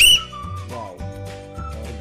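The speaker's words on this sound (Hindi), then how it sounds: "सीटी, ये देखिए" A small plastic toy whistle from a snack pack gets a short, shrill, high blow at the start. Sustained tonal music continues underneath, and no one speaks.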